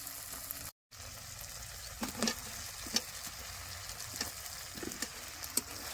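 Potatoes fry in spiced oil for a village-style vegetarian curry, making a faint, steady sizzle with occasional small pops and stirring clicks, and no talk.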